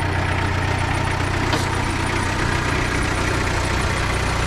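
A homemade tractor's engine idles steadily up close, a continuous low throbbing rumble with an even, slightly knocking rhythm and no talk over it.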